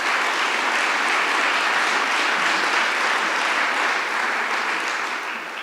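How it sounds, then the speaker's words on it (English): A crowd at an annual Boston bike update evening gives another round of applause, thick, continuous clapping that holds steady and tapers slightly at the end, with no talk over it. "Another round of applause, please"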